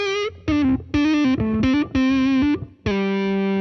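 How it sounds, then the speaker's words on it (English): A Gibson electric guitar with its tone knob rolled fully down plays a run of loud, close, clean notes and short phrases with effects, ending on a sustained ringing note; no talking. "if I just rolled the tone all the way down"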